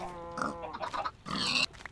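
Pig grunts and oinks from the video game Minecraft come in short bursts, close and moderately loud, with a brief pause between two groups.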